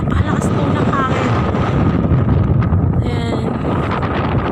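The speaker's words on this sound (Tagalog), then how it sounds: "Napakalakas po ng hangin." Strong wind buffets the microphone at sunset in the middle of a rural rice field, a constant loud roaring rush with no letup across the whole stretch.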